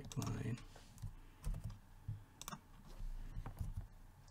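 Close computer keyboard typing as a pipeline name is entered, a quick run of light key clicks in uneven bursts, with a voice talking over part of it.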